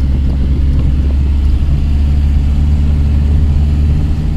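A camper van engine drones loud and steady with a low, labored rumble, heard from inside, holding a constant strain without pause while climbing a mountain road and overheating at 103 degrees.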